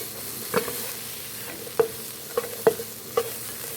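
Pork belly stir-frying with garlic and salt in a pan: a soft continuous sizzle under several sharp utensil scrapes and clinks, spaced irregularly, close and moderately loud.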